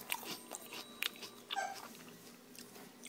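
Crisp crunching of homemade kale chips tossed in olive oil and sea salt and baked at 350 degrees, a few sharp close bites and chews spread irregularly, with quieter mouth sounds between.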